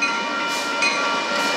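A northbound BNSF freight train led by locomotive 4461, with an H1 unit trailing, rolls past in Sacramento, California, a loud, steady, close rail roar and clatter from the passing cars that fills the whole moment.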